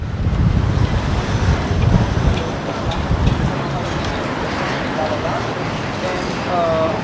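Strong wind buffets the microphone with a steady low roar, and faint voices come through underneath.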